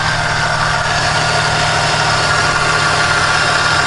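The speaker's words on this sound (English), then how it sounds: "as you can see, if you can, the clutch engaged, so that's working this time" Honda/Acura V6 engine idles with the AC compressor clutch engaged, a steady, loud, close mechanical drone with constant vibration and no breaks.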